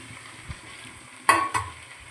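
Six eggs drop into a hot pan for an egg palya, setting off two sharp bursts of sizzling, each fading quickly against a quiet background.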